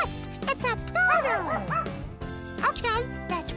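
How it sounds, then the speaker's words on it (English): A small dog barks and yips in quick bursts, close by, mixed with high excited voices and playful talk. "It's a poodle!"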